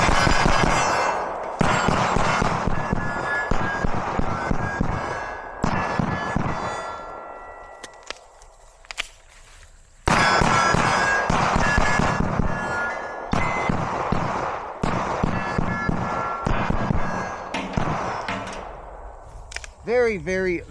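An SST-tuned Platypus 2011 pistol fires in rapid strings of sharp, loud cracks, with short pauses between volleys and a brief quieter gap partway through.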